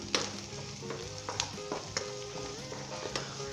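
Cabbage and potato sabzi with green chillies and spices stirred in a pan, a soft continuous sizzle with regular scraping spatula strokes every half second or so, no talk.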